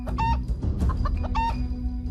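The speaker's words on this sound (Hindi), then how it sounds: "छोटू उस मुर्गे को पकड़ने की कोशिश करता है, पर छोटू को देख वो मुर्गा भागने लगता है" A cartoon rooster clucks and squawks in several short, close, loud bursts over a low background rumble.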